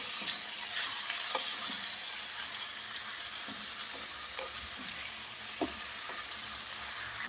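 Beef pieces and onions frying in a pan for a beef curry, a continuous bright sizzle with occasional soft scrapes and taps of a stirring spoon, close and steady, no voices.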